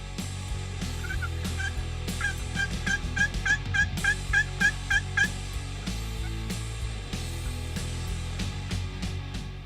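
Wild turkeys in a hunting setting, including a large tom and young jakes, gobble loudly in a rapid run of repeated bursts that peaks midway, over a constant low background hum.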